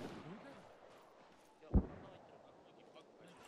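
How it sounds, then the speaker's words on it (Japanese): A single sharp, distant gunshot in the Arma 3 military game cracks out once amid low background noise. "この銃声しか聞こえない。"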